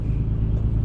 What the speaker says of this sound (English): I'm just driving aimlessly right now.